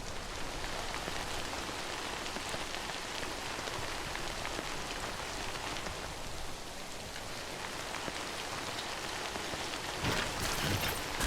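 Steady video game rain in Death Stranding pouring down, a dense continuous hiss of drops on a surface with no voices, holding even throughout.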